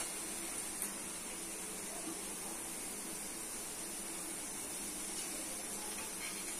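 Spices including turmeric, salt, chili, coriander and cumin powders sizzling in frying onions in a pan, a steady even hiss throughout with no distinct voices.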